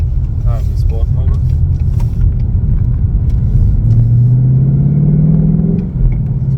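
A 2021 Ford Mustang GT engine in sport mode rumbles and then revs up with a rising drone, loud and close, while a person speaks over it.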